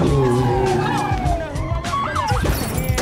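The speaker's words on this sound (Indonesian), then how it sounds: "mengakibatkan Noah dikejar oleh beberapa polisi." Police car sirens wail in a film chase scene, rising and falling pitches sweeping over a dense, loud mix of engines and tire noise, with a voice briefly heard among the action.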